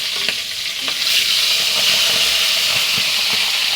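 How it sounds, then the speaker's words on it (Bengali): Silver carp fish head frying in hot oil, a dense continuous crackling sizzle, close and loud for the whole moment, with no voices. "মাছ ভাজা হয়ে গেছে, এবার মাথাটা ভেজে নেব।"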